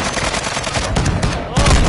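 Rapid automatic gunfire in Call of Duty: Warzone, a dense, continuous barrage of shots that grows louder and heavier near the end, with a voice briefly audible.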